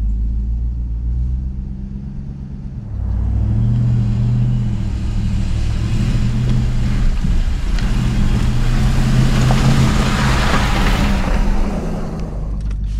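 A 2022 Ram 1500 TRX pickup truck driving off-road up a ridge, with a steady deep engine rumble that swells as it accelerates and holds loud and close for several seconds, no talking.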